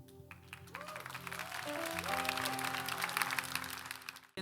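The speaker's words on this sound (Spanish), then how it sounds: "Da un aplauso más grande a Dios por la vida de nuestro pastor Bernardo" A church audience welcoming Pastor Bernardo: clapping swells from soft to full, mixed with sustained musical tones from the room, and fades near the end.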